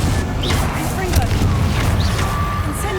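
Confringo fire spell cast in Hogwarts Legacy, a dense continuous blast of crackling, roaring magic with a low rumbling boom and scattered whooshing streaks across three seconds, a voice calling out over it.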